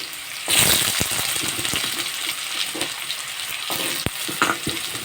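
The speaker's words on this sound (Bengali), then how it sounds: "এখন আমি কেটে রাখা আলুগুলো এর মধ্যে ছেড়ে দেব" Cut potatoes hit a spice tempering that has fried to a reddish colour, setting off a loud, steady sizzle of frying oil with scattered sharp clicks and stirring knocks, close and without voices.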